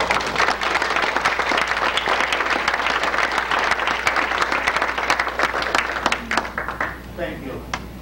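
Audience applause welcoming Dr. Spencer Shaw as he takes the stage, a dense, steady wave of clapping across the room that thins and tapers off near the end.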